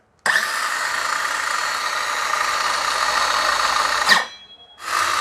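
A JEMAR cordless handheld power saw whirs steadily at high speed for about four seconds, close and loud, then winds down abruptly and briefly restarts.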